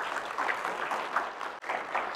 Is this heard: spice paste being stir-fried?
no